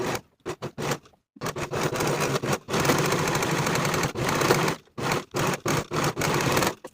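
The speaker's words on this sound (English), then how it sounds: "I'm just going to be using my serger." A serger runs in short, loud mechanical bursts and longer stretches, stopping and starting as it finishes the outer edge of a fabric facing for a ruffled-sleeve top. No one speaks.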